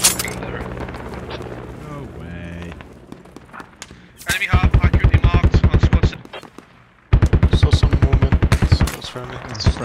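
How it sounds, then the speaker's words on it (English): Automatic rifle gunfire rings out in the tactical shooter Squad, first a scattered distant exchange under talk, then two loud, close sustained bursts of rapid shots separated by a brief pause. "Someone's trying to shoot me"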